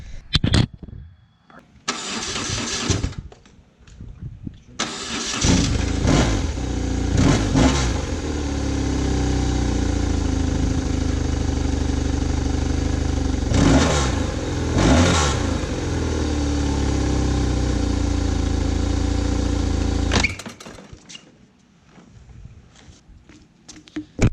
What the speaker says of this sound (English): let's go ahead and do a little cold start on this thing